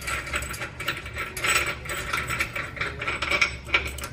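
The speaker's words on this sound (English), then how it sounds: "So we'll just unbolt that." A ratchet clicks in quick, close-up bursts while unbolting the hitch extension bolt on a Jeep Wrangler JL, the metallic pawl ticks coming in uneven runs.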